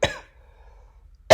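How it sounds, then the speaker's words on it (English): A person with a lingering cough coughs twice, close and loud, once at the start and again at the end, with quiet between. "Still got my cough."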